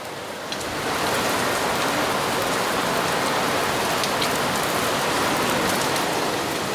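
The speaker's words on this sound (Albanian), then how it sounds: "Breshri vazhdon akoma më pak tani" Hail pelts down through a storm in a dense, steady roar of hard impacts that holds loud and even for the whole stretch, with no voices.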